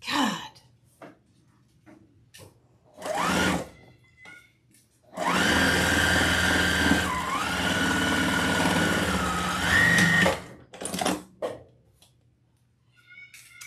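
A sewing machine stitches around a fabric peacock wreath attachment in a long steady run with a shifting motor pitch, preceded by short bursts and scattered household noises.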